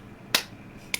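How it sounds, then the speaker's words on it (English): A single sharp hand clap rings out close and alone in near silence, followed by a second, shorter crack. "Slow clap. Just one clap."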